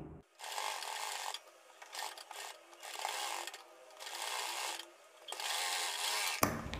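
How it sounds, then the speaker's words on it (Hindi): A sewing machine stitches piping onto a fabric edge in several bursts of rapid, whirring needle action, separated by brief pauses, close and clear with no voices. "ये देखिए यहाँ पर हम अपनी सिलाई लगा रहे हैं"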